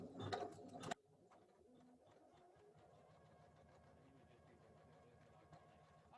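A Janome embroidery sewing machine stitches fabric held in an embroidery hoop, a quiet, fast, even mechanical chatter, with a louder burst of handling noise at the start.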